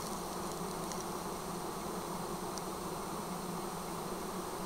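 A swarm of bees forming on a tree outdoors, a dense continuous buzzing hum that stays steady and fairly faint with no voices.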